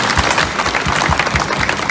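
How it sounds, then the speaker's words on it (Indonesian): An audience at a school flag ceremony gives a short burst of clapping, dense and fairly loud throughout, with no talk over it. "Boleh tepuk tangan biar kita relax."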